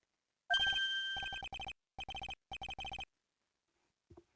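Cell phone ringtone from the Ace Attorney game, an electronic tone followed by a series of short, evenly spaced ringing bursts in a clean, close sound with quiet gaps between them.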